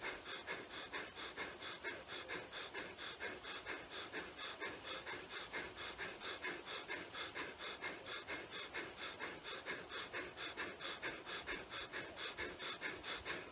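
Forceful rhythmic breathing exercise, rapid steady in-and-out breaths repeating about twice a second throughout, close and breathy with no talking.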